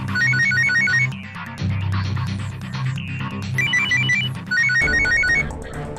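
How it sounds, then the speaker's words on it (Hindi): Several mobile phones ring at once from inside a kitchen freezer, overlapping electronic ringtone melodies repeating in bursts, loud and steady throughout with no talking. "फोन फ्रीजर में बज रहे हैं।"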